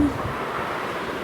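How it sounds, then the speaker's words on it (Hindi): Outdoor wind rushing steadily past the microphone on a dry, rainless summer day, a broad constant whoosh with low rumbling gusts and no speech. "अच्छी हवा चल रही है आज"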